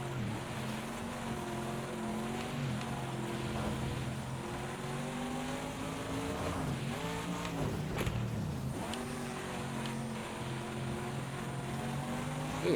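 An Aston Martin races on a wet dirt track in a video game, its engine droning steadily and shifting pitch as the rear tires spin through puddles, with no talking.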